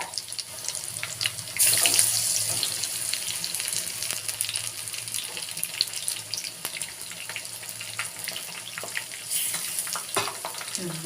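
Palak baji, spinach-leaf fritters, fry in hot oil with a loud, continuous close sizzle and crackle, plus a few light clatters of stirring.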